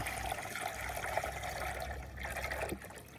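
Water runs from a park tap into a container, a steady trickling and splashing fill heard close and fairly quiet, easing off near the end.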